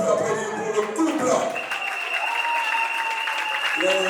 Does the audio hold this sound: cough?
no